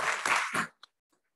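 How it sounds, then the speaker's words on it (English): An audience at a STEM Education Day event at the Capitol claps in a short burst of applause that quickly dies away, leaving a couple of faint stray claps. "We owe all of them a moment of appreciation and applause."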